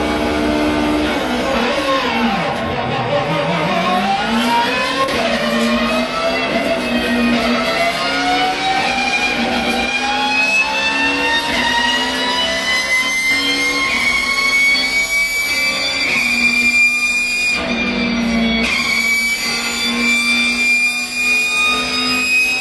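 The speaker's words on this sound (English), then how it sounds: "this is a recording from inside of a touring car" Inside a racing touring car, a loud engine roars and whines continuously, its pitch sweeping up and down through gear changes and throttle lifts, with no talking.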